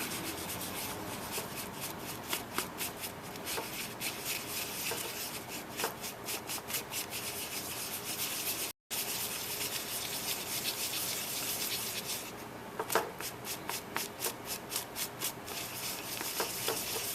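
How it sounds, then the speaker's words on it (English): Steady scraping and rubbing as a toothpick stirs JB Weld steel epoxy and hardener together on a surface, a continuous close-up gritty texture with a brief gap partway through. "equal parts of hardener and steel, JB weld. Get my trusty toothpick. And we'll mix this stuff up."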